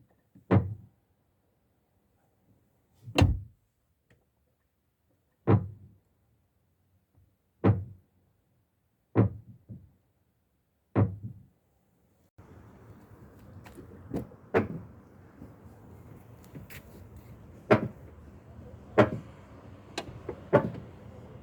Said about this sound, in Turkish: Her sol ön kapıyı açtığımızda sol ön kapı, sol ön çamurluğa deyip gacırtı ses çıkarıyor.